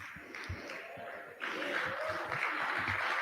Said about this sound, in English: You don't have to clap now.